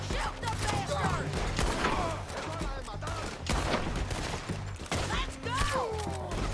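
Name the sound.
gunfire in Red Dead Redemption 2 video game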